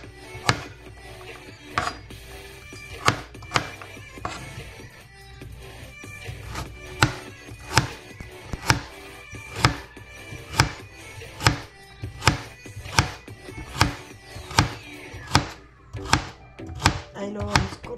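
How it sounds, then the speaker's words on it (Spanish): Vegetables and jalapeño chillies are sliced for pickling in vinegar, each knife stroke a sharp knock on the cutting board in a steady, evenly spaced rhythm, close and clear with no one talking. "Ahí lo vamos cortando todo."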